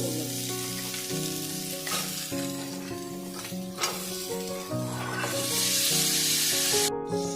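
Lobster legs go into frying masala for a lobster leg curry, producing a continuous close sizzle with stirring that swells louder toward the end, all under background music.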